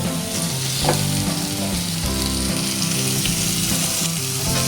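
Stuffed bitter gourds go one by one into sizzling masala in a pan, making a continuous loud frying hiss over a low, tuneful background hum, with no one speaking.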